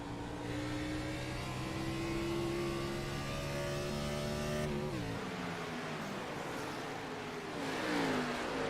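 A race car in a sim racing game at Homestead Speedway rolls along an access road and accelerates back up to speed, its steady engine whine climbing through the gears and then dropping as it shifts, loud and continuous.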